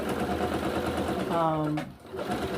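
A sewing machine runs continuously, stitching lightweight cotton for shirring, with a steady motor hum whose pitch briefly rises into a whine before dropping and resuming.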